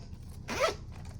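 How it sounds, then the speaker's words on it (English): A single quick zip of a zipper on a pouch of colored pencils, a short rising rasp close to the microphone over a quiet room background. "I'll zip those up later."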